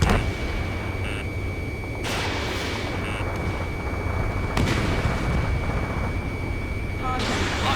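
Missile blasts and weapon fire in the Ace Combat 7 combat flight game, heard as a dense, continuous barrage with a few sharper booms standing out over a steady roar, near and loud throughout.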